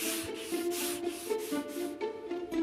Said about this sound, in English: While Stefan continues his sanding marathon